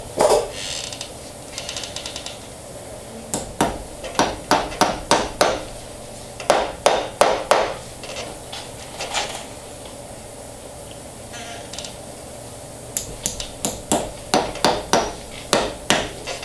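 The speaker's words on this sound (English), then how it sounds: "You can't keep whacking the tack, because then you'll scratch the finish" Hammer tapping upholstery tacks into a bench nail panel, in quick runs of sharp, close taps separated by short pauses, with no talk.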